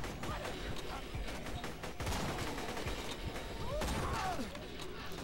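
Rapid gunfire from a gun in Borderlands 2, dense bursts of shots and mechanical clatter running continuously, loud and busy with other game noise mixed in.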